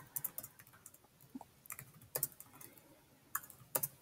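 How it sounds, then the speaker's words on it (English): Irregular bursts of clicking keystrokes on a computer keyboard as an email subject line is typed, close and fairly quiet, with short pauses between clusters of keys. "Of course, type in your subject."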